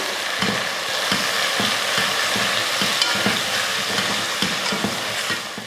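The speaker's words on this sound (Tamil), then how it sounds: "இப்போ இதை நல்லா வதக்கி விட்டுறலாம்" Tomato and potato sautéing in a pan for a Tamil kara kulambu, with a steady sizzle and repeated scraping strokes of a spatula in an even rhythm, close and fairly loud, no voices.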